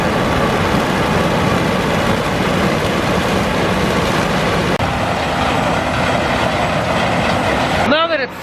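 Steady, loud engine drone with a rumbling low end runs for the full stretch from inside a tractor cab during a harvest, with a combine working nearby; a brief warbling chirp near the end.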